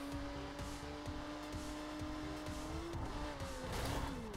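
Car accelerating in the racing video game The Crew, a steady engine drone rising in pitch over rumbling road noise with a faint tire squeal near the end, moderately quiet and without talk.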